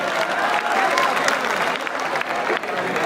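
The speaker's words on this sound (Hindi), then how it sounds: "जोरदार तालियां बजा के।" An audience claps steadily and loudly at a mushaira, the Jashn-e-Baharan poetry gathering at MANUU in 2023, with a dense wash of many hands and some crowd murmur throughout.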